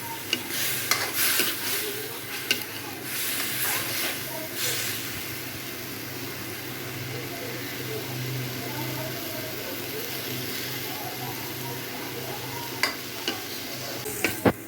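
Rice grains dry-frying in a pan with a little water and green chillies, giving a steady close sizzle and hiss with occasional scraping stirs throughout.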